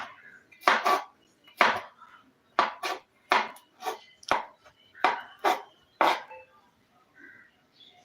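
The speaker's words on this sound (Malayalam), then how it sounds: "ഇതാ നമ്മളെ വെളുത്തുള്ളിയാണ് അവിടെ കട്ട് ചെയ്തേക്കുന്നത്" Knife chopping garlic on a cutting board, prepared for homemade chicken cutlets, in about ten crisp, evenly spaced strikes, close and clear with no talk.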